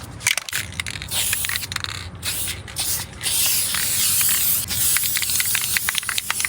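An aerosol can sprays clear coat onto a patched rust repair on a car, loud hissing bursts broken by brief pauses, then a longer continuous spray pass.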